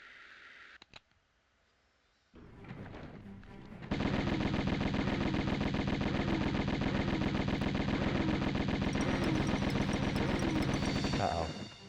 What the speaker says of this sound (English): Why am I using my pistols?